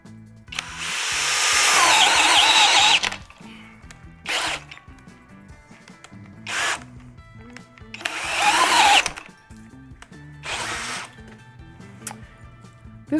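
A Flex power drill bores into wood in four separate bursts, the first and third long and loud, the others short, with quieter mechanical handling and clicks between them.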